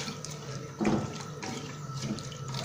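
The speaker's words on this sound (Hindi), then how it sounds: "थोड़ा सा पानी और ऐड करेंगे" Water pours into a pot of black pepper mutton: a brief splash swells up, then a steady, soft trickle continues close by, with no talking.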